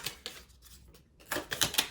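Tarot cards shuffled by hand, giving a few crisp riffling and tapping bursts at the start, a quiet pause, then a denser run of card flicks near the end, close and alone.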